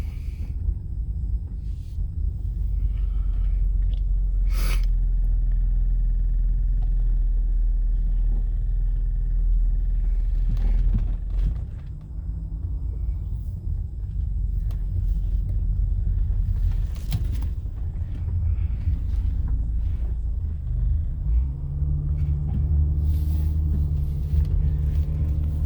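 An old Lexus with a quarter million miles rolls along, its low engine rumble and road noise continuous and moderately loud, with a few brief knocks and clicks from inside the cabin.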